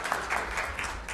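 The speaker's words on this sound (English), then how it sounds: "I think we should give these, I can't say children, these people a big round of applause for the effort they are making" Brief applause from an audience at a Hindu temple gathering, a soft, diffuse patter of hands at moderate distance, fairly quiet and steady over a low background hum.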